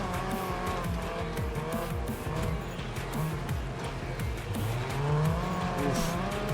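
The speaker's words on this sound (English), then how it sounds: "I don't know how to race front-wheel drive cars if you can't tell." A front-wheel drive race car in the Wreckfest 2 video game drives hard, its engine droning steadily with tyres squealing and skidding through corners, loud and continuous throughout.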